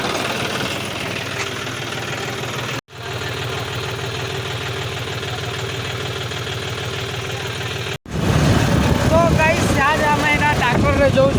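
A tractor engine chugs at a steady idle close by, its rhythmic knocking rumble running throughout, broken by two brief cuts, while people talk over it.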